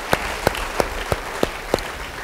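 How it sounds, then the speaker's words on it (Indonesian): A church congregation claps in a slow, even rhythm, six sharp, loud claps roughly a third of a second apart with no talking. "Beri tepuk tangan yang meriah."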